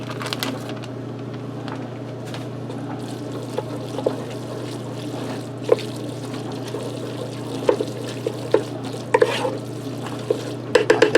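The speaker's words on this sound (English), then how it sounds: "stir your cheese around and melt it in there" Shredded cheese is stirred into herb chicken mac and cheese in a Ninja Speedi, with soft scraping and scattered sharp spoon taps over a steady low hum, growing busier toward the end.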